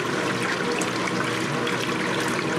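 A Speed Queen TC5 top-load washing machine agitating its load, a steady, close wash of churning, sloshing water that fills the whole stretch without pause.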